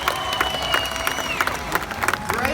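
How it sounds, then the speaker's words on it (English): A SeaWorld San Diego show audience breaks into applause and cheering, a dense wash of clapping with scattered whoops and whistles from a large crowd. "Let's give him a round of applause."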